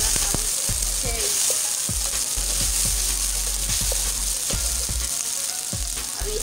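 Garlic, cherry tomatoes and vegetables fry for Nigerian fried rice, giving a loud, steady sizzle that goes on throughout, with a spoon tapping and stirring the pan now and then.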